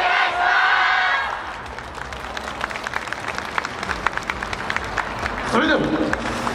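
At an outdoor yosakoi dance performance in front of a central post office in Tsu, a crowd claps along in a steady rhythm after an announcer speaks, with cheers and a few shouts rising over the clapping.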